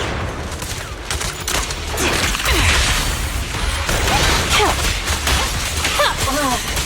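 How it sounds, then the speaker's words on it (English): Gunfire from Grim Vulture in the video game Zenless Zone Zero, shots from afar as rapid bursts and impacts mixed with whooshes and game effects, dense and fairly loud, with a voice over it. "Watch out for Grim Vulture taking shots from afar!"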